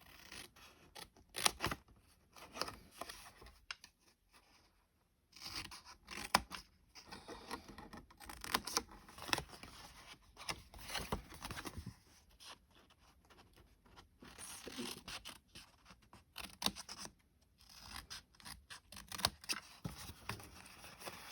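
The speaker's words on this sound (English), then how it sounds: "we are going to cut triangles out of these little corners" Scissors snip triangles out of the corners of card in bursts of close, crisp cuts and rustling paper, with a few short quiet gaps between bursts.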